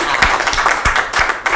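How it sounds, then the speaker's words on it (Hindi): Applause from an audience at a Rajasthan Parishad honour event, a dense, steady wash of clapping from many hands that fills the short moment without voices. "तालियां हो जाएंगी"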